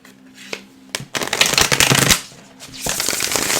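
Tarot cards are shuffled close to the ear in quick riffling bursts, two long rapid flurries of dense card flutter separated by a short lull, with a faint low hum underneath.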